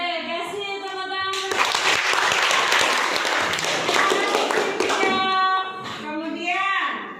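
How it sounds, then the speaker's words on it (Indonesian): A class of students bursts into applause during a lesson on AI and machine learning, loud dense clapping for several seconds between stretches of voices speaking. "kasih tepuk tangan"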